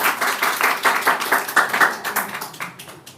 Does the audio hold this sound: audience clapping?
yes